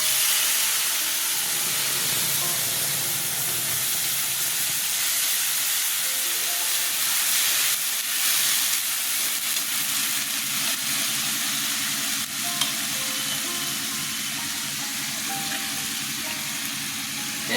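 A paste of onion, ginger, green chilli and tomato hits hot oil for katla fish curry, producing a steady, loud hiss and sizzle that holds evenly with a few small pops.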